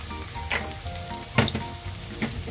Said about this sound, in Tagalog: Lagyan natin ang bawang. Tapos, isunod natin ang sibuyas.